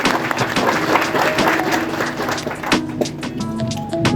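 Hearty audience applause at a live health event in Rajkot, a dense continuous wash of clapping filling the space, with some voices and room noise underneath.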